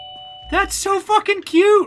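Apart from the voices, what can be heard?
doorbell ringing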